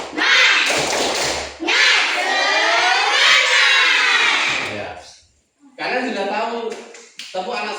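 Schoolchildren in a classroom chant a rhythmic 'tepuk semangat' cheer together, with sharp claps and taps in time. Voices dominate throughout, with a short pause before the group resumes chanting and clapping.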